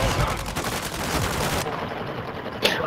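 A player's gun fires in the Modern Warfare 2 video game, a dense, loud burst of rapid shots that cuts off abruptly and leaves quieter game ambience.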